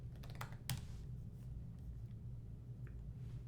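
Keystrokes on a computer keyboard while filling in a business credit application online, a few quick faint taps near the start and isolated clicks later, over a low steady background rumble.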